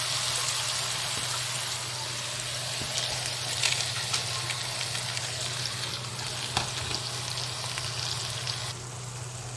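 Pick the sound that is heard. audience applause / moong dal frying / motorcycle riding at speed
moong dal frying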